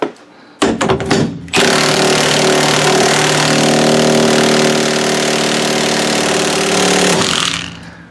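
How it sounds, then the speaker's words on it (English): A big impact wrench on a welded steering wheel nut gives a few short bursts, then one long loud continuous hammering run up close, with no talking. "I'm going to put my big impact on there, and I'm going to take it all the way to one side and see if that will break."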